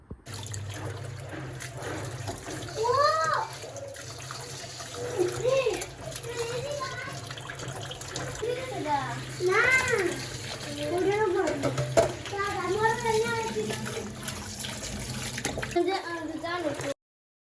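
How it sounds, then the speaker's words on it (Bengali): Water runs steadily from a tap while chicken meat is washed in a home kitchen, a constant splashing trickle beneath a voice that talks over most of it. "জল আসার পর এখন মাংসটা ধুইলাম"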